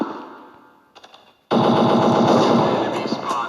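After a faint fading tail and a few light taps, a loud sustained burst of Counter Terrorist video game gunfire erupts and runs continuously to the end, with a voice faintly under it.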